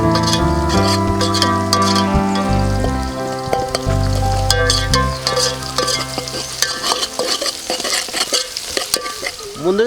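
Onions with turmeric are stirred in a hot frying pan, with a spoon scraping and clattering repeatedly over a steady sizzle, loud and close.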